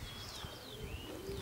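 A racing pigeon cooing at a home loft in Wejherowo on arrival, soft low coos close by over a steady outdoor background, with faint higher bird chirps mixed in.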